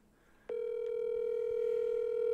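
Phone call connecting: after a click, a steady outgoing ring tone sounds clearly and continuously, close and alone, over a faint room background.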